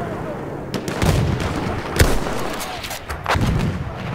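Battlefield 1 video game artillery fire, several heavy booming shots and impacts at irregular intervals, one especially sharp blast near the middle, amid continuous battlefield rumble; voices are heard too.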